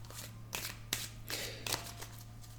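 A tarot card is slid and laid over another on a table, giving a few soft, close papery swishes and taps against faint background hum.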